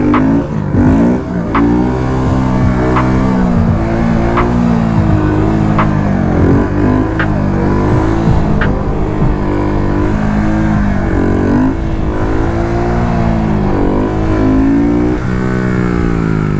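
Car revving and pulling through first gear, engine note rising and falling in repeated short surges with shift-like breaks, loud and steady throughout, heard from close by with no talking.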